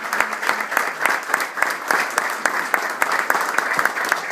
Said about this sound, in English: I just want to give them all a round of applause.